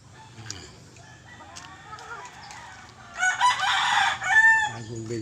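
Chickens brought from Manila clucking at a new farm location, then a rooster lets out a loud, close crow partway through, with softer fowl calls around it.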